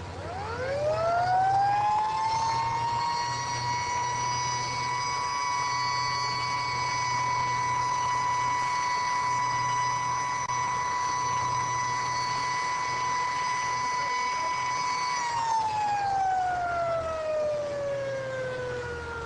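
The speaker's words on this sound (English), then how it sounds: "the alarm is immediately given" The alarm siren at a Hawk surface-to-air missile battery on constant alert in Israel rises quickly to a loud, steady wail, holds for about fifteen seconds, then winds down, with a low rumble beneath.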